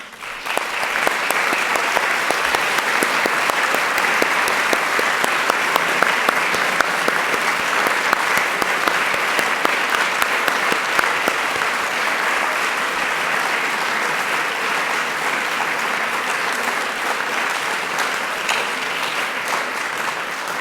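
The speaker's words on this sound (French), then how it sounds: "je vous demande de vous lever pour recevoir aussi les applaudissements de cette assemblée" A large assembly at a graduation ceremony for baccalaureate students applauds steadily and loudly, dense clapping sustained for about twenty seconds with no talk over it.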